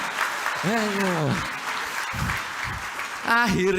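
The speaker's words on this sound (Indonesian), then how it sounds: "Wah, bagus, tepuk tangan" Applause from an audience rises as a broad clatter of clapping, with voices speaking over it near the start and end.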